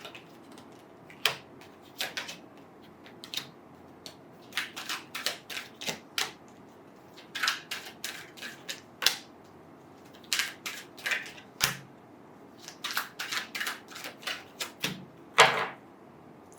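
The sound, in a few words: shuffling tarot reading cards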